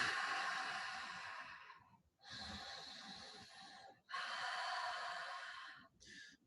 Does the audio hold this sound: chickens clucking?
no